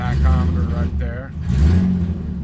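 The engine of a 1967 Triumph GT6 idles after a cold start with the choke pulled, a mid-pitched, slightly uneven rumble close by, partly covered by someone talking over it.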